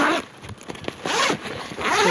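A zipper runs along the pocket of a black packing bag, with several loud, close pulls and brief pauses between strokes.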